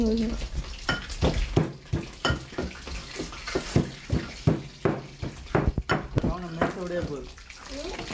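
Fennel and mustard seeds sizzle in hot oil with sharp crackling pops and spatters at an uneven pace, close up, while a voice talks.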